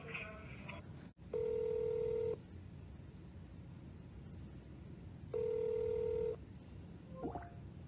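Two long, steady telephone tones, each about a second long and several seconds apart, sound on a line while an office call is put through, with faint talk between them.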